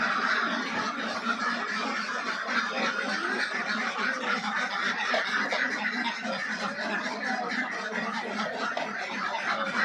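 A large flock of egg-laying ducks on a duck farm keeps up a dense, continuous chorus of quacking and honking at close range, with faint human voices mixed in.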